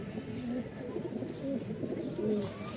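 Pigeons at a Bangladeshi pigeon market coo softly in a few low, rolling phrases, close by and fairly quiet against a faint background hum.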